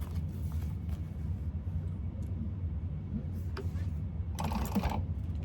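A sewing machine top-stitches the side of a fabric candy bag, giving a steady, close, low mechanical whir and rumble that runs the whole time with a few faint clicks.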